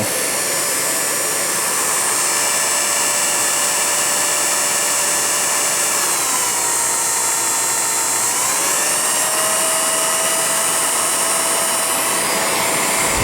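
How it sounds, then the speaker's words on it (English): The electric motor and cooling fan of a 1949 Revere Model P-90 8mm movie projector run with a loud, steady, close whine and airy roar, and the pitch dips briefly before settling again. "the faster the motor runs, the more air is blown through the bulb chamber, or the lamp house"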